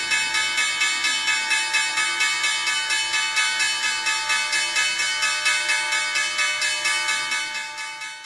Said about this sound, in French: c'était donc la cloche de Wall Street qui, non pas clôture, mais débute à la hausse